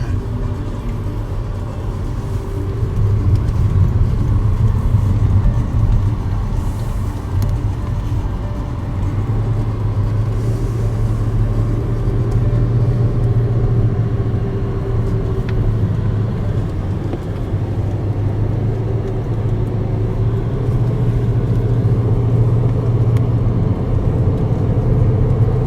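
Interior drone of a Bentley Flying Spur driving between resorts on Langkawi, Malaysia, passing a golf course: a steady, loud low engine and road rumble that holds evenly throughout with no talk.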